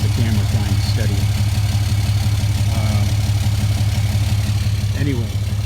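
A 2012 Ram diesel truck engine idles steadily nearby, a constant low rumble running unbroken throughout with faint voices underneath.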